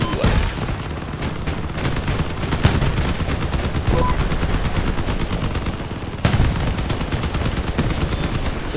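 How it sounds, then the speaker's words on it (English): MM5 Vector machine gun firing in the vehicle-combat game Crossout, a dense continuous stream of rapid shots with a sharp burst near the six-second mark, loud and steady throughout with no talk. "This MM5 Vector machine gun thing is really good."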